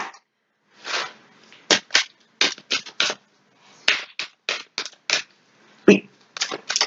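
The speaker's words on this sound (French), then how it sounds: "Je vais tirer une dernière carte pour clôturer ce tirage." Cards drawn and handled during a tarot-style reading: a series of close, crisp snaps and papery flicks in uneven bursts, with brief pauses between them and no speech.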